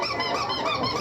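A squeaky toy squeezed into a megaphone at a street protest, one short, shrill, amplified squeal lasting about a second, heard alone.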